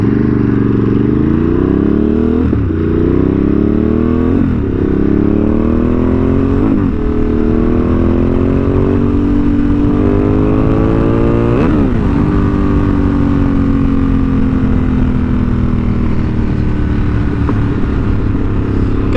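A Ducati Monster 937 motorcycle with an SC Projects exhaust revs up and down repeatedly from close by. It repeats a loud, rising engine note at regular intervals and then settles into a steady, droning idle.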